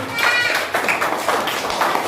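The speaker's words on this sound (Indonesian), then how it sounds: "Kasih tepuk tangan untuk Nando." Classmates clapping for a student named Nando, close and uneven, with scattered taps and thumps and a voice talking over the clapping.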